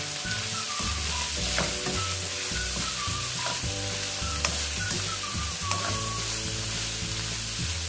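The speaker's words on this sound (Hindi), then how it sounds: "अच्छी तरह से मिक्स करेंगे।" Chicken pasta with carrots being stirred and mixed in a hot pan over medium-high flame, a steady loud sizzle with scraping spoon strokes and clinks running throughout, no voices.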